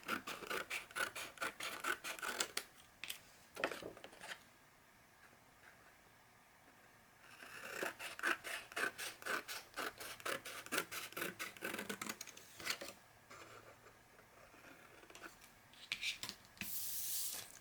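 Scissors cut through paper and cardstock while an album or journal is trimmed, giving bursts of close, crisp snipping and rasping strokes with short quiet pauses between cuts.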